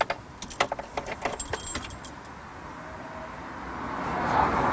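A car's ignition keys jingle and rattle close by in the first couple of seconds, followed by a rising engine hum as the car starts, with no talking.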